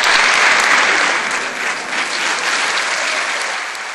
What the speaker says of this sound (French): Je voudrais qu'on applaudisse Billy